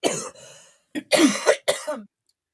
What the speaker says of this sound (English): I got to cough again